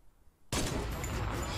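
In a zombie-mode shooter video game, sudden gunfire erupts after a brief quiet moment and continues as a loud, dense, sustained volley up close.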